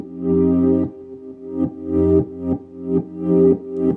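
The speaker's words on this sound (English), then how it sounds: "I'm gonna take the kick off so you guys can hear the ghost kick" An electronic music track in FL Studio 12 plays with sidechain compression and the kick removed: sustained, bass-heavy synth chords swell and duck in a steady pumping rhythm roughly twice per second, with no drums or voices.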